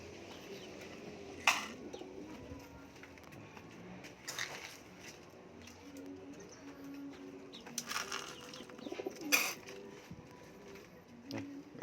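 Pigeons at a rooftop loft during afternoon feeding, with soft cooing and several short bursts of wing flapping scattered through a quiet background.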